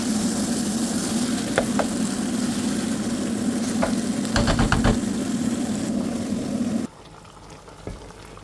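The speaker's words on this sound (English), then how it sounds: "I will fry this on a low to medium heat and I will keep stirring in between those 20 minutes" Nigerian egusi soup fries in a pot over low to medium heat, giving a steady bubbling sizzle with a few stirring knocks and scrapes before the sound drops away abruptly near the end.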